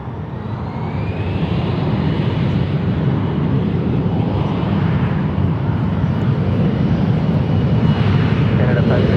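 Airliner taking off from a San Francisco International Airport runway, a loud, steady, broadband jet roar that swells in the first seconds and holds strong throughout, with voices faintly in the background.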